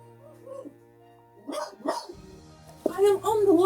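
A dog barks a few times close by indoors, yelping and whimpering between barks, while a voice speaks before and after.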